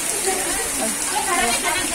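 Heavy rain pours down in an outdoor garden in Singapore, a dense steady hiss of water filling the whole stretch, with voices talking faintly underneath.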